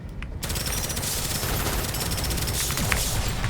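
Dense, rapid gunfire in a video game mission, sustained bursts of automatic fire that kick in abruptly and continue loud and close without pause.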